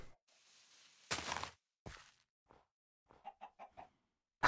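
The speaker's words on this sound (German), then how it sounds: "Hier gackert's, aber ich sehe keine Hühner." Chickens cluck in a video game: a series of short, bright clucks in quick succession, with a louder burst and some game sounds scattered across the quiet stretch.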